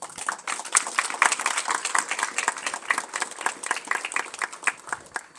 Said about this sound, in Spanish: merece un aplauso, por favor